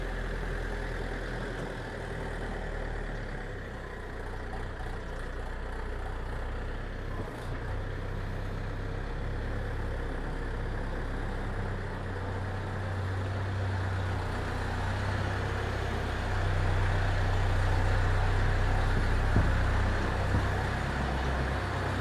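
A steady low tractor engine rumble runs continuously throughout, close and unchanging.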